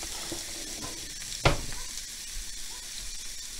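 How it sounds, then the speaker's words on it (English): Shrimp sautéing over medium heat in a home kitchen, a soft steady sizzle with one sharp clatter near the middle, fairly quiet and without talk. "So we're just going to saute these shrimp"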